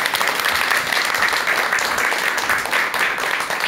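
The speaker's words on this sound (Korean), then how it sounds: "큰 박수로 강의 청해 듣도록 하겠습니다" An audience gives warm, steady applause before a lecture by a psychiatrist on the wisdom of human relationships, a full, continuous wash of many hands clapping throughout.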